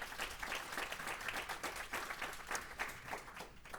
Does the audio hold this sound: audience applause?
yes